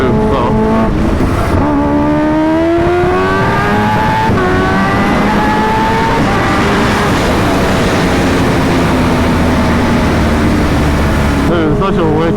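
Kawasaki Ninja H2R supercharged motorcycle under hard throttle, its engine note rising through several gear pulls with brief dips at shifts, very loud and close with heavy wind rush, a voice occasionally beneath it.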